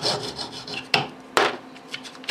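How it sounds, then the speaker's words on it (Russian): A hacksaw for metal works through a disposable razor clamped in a vise, giving quick rasping strokes with a few sharper scrapes, close and fairly loud with no talk. "Вооружаемся ножовкой по металлу и отрезаем"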